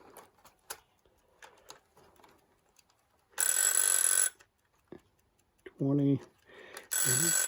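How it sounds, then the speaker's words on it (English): A vintage suitcase clock radio's alarm rings in bursts of loud, bright metallic ringing, two long stretches and one shorter one, between faint handling clicks and knocks and a short electronic warble. "So the alarm rings."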